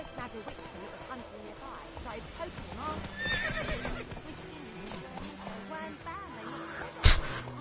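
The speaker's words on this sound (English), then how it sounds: "What's up with this horse there?" A horse in The Witcher 3 whinnies and snorts amid game sounds of hooves, with a person talking throughout and a sharp louder burst near the end.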